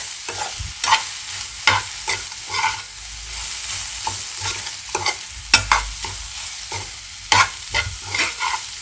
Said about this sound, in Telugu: ఈ కొబ్బరి అనేది కాస్తంత కలర్ చేంజ్ అయ్యేంత వరకు ఫ్రై చేసుకుందాము.